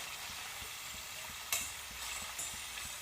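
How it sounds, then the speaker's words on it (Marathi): Paneer deep fries in oil with a quiet, even bubbling sizzle, broken by a couple of sharper splashy crackles midway, with no voices. "पनीर तळून घेऊया, चांगलं डीप फ्राय चांगलं करून घेऊ त्याला।"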